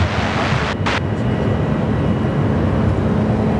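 Airliner taking off at Sydney Airport, a loud broad roar of jet engines steady throughout and mixed with wind buffeting on the microphone.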